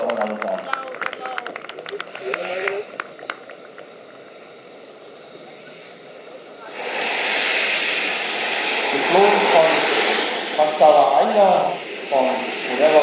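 Model P-47 Razorback warbird aircraft landing at a warbird meeting, a faint engine hum that swells into a louder whining engine run under an announcer's amplified talk.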